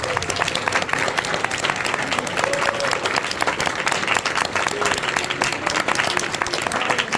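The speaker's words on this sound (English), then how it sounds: "A round of applause for all of our seniors." A crowd at a wrestling banquet applauds the seniors, with dense, continuous clapping that holds at an even level throughout.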